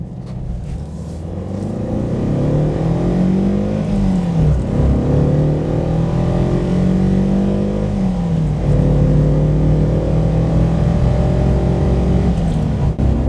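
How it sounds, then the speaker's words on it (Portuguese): A 1972 Toyota Celica engine revs in repeated rising and falling sweeps, loud and close, with a deep rumbling exhaust note climbing and dropping under sustained throttle. "Vamos ver como o motor se comporta."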